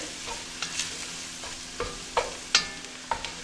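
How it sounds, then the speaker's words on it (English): Flour and butter roux being stirred in a pot for broccoli cheddar soup, with a soft steady sizzle and several scraping spoon strokes against the pot, close and alone. "we're just gonna get everything coated and let that cook for just a second"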